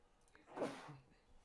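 A single short, soft sneeze, close but faint, with nothing else around it.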